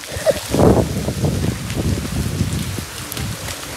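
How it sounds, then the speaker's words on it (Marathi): Heavy rain falls steadily and close by, a dense wash of drops on surfaces with a few brief louder patters near the start. "पाऊस पडत आहे."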